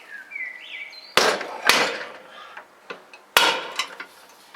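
Sharp, solid strikes of a mallet land irregularly while splitting motorcycle engine cases, three loud blows and a few lighter taps, with faint chirping birds in the background.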